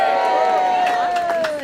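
Large crowd at a 2012 anti-carbon-tax rally cheering and whooping loudly and continuously, a dense roar of many voices with rising shouts toward the end.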